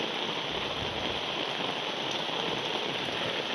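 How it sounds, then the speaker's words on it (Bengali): Heavy rain pours steadily onto a flooded town road in Feni, Bangladesh, as a dense, continuous hiss of drops striking water with no pauses and no voices. "আজকে দেখেন এই বৃষ্টি"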